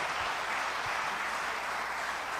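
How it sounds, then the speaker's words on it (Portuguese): A church congregation applauds the Lord with a steady, even wash of clapping. It is moderately quiet and carries on without a break, with no voices standing out. "Você pode aplaudir o Senhor?"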